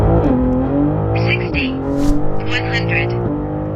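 A tuned BMW M3 G80, boosted to 750 horsepower with Stage 2 tuning, accelerates hard from inside, engine rising through the gears with clear drops at each shift, loud and close, while a voice speaks over it.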